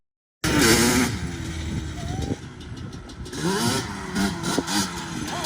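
A 2002 Yamaha Banshee's two-stroke engine fires up and revs, a loud, close, buzzing rasp that rises and falls through several throttle blips, with brief talk over it.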